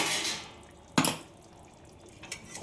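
A pot lid comes off a simmering mutton curry with soybean, giving one sharp metallic clank followed by a softer clink, with bubbling and kitchen noise around it.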